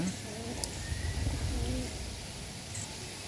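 Bombay pigeons in a loft give soft, low, burbling coos. The coos are faint against steady background noise, with a voice in the background.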